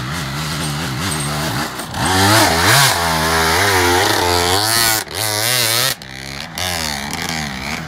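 A dirt motorcycle revving hard on a trail, its engine climbing and falling in loud, close, buzzy surges with repeated throttle bursts and a few sudden drops between revs.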